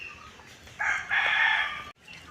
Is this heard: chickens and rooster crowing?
yes